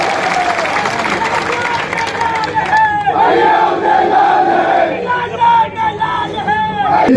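A large crowd at a public rally for cooperative minister Uday Lal Anjana roars, chants and cheers, dense massed voices with rising shouts and slogan-like calls.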